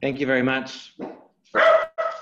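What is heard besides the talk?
dog barking in the background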